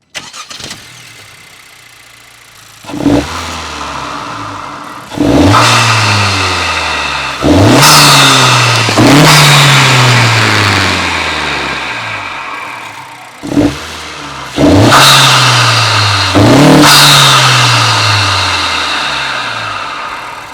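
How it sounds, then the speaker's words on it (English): A Honda Civic Si (11th generation) with a short ram intake warm-starts, then revs repeatedly in loud surging bursts that fall back toward idle between each one, close up. "I'm going to turn the car on and give you some revs"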